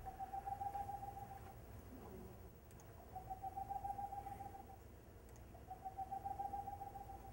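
Boreal owl song, a series of soft, rapid hooting boops with closer spacing than a saw-whet owl's, repeated in three faint bursts over steady background noise.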